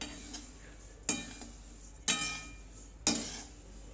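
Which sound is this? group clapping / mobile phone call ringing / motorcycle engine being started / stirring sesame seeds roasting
stirring sesame seeds roasting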